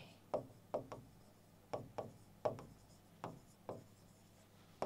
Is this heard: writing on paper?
yes